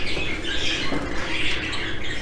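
Several young budgerigar chicks in a breeding nest box squawk continuously, a close, dense chatter of high raspy calls with no talking.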